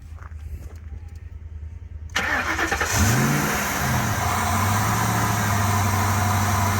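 A Mercury Marauder engine with a K&N cold air intake cranks and catches, then settles into a steady, even idle that continues to the end, loud and nearby.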